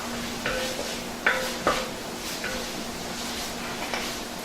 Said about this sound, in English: I've got 3 cloves of garlic minced. And we're just going to stir this for about a minute or so.